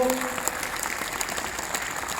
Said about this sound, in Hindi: एक बार दोनों हाथ सामने उठाकर तालियां बजा दीजिए